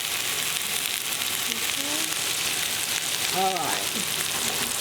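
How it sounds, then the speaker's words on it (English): Chicken seasoned with Cajun spice sizzles and fries steadily in a pan, a constant close crackle throughout while someone briefly speaks over it. "That sizzle is the sound you always want to hear in chicken."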